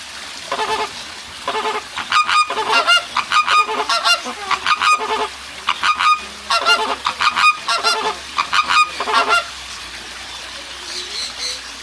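Geese honk loudly and repeatedly at a waterfowl park, bursts of harsh calls in quick irregular runs with short pauses, close by, alongside faint trickling water.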